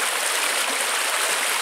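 Stream water flowing through wet woods, a steady close rushing and gurgle that stays even throughout and plays alone.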